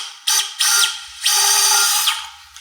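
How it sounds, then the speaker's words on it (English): A surgical power drill bores a pilot hole in the sacroiliac joint for a TransLoc 3D SI joint fusion implant, whining in three sharp bursts, two short and one longer, loud and close. "we're going to drill our initial hole here"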